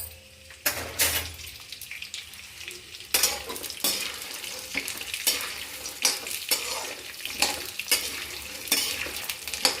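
Makhana (fox nuts) fry in oil in a kadhai for a fasting snack, with close, repeated stirring scrapes and clatter over a continuous crackling sizzle in uneven bursts.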